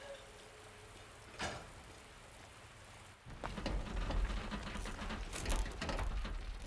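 Rain falls in the Resident Evil 2 Remake video game, a steady soft patter that swells into heavier, louder rainfall partway through, with sharp intermittent clicks and no speech.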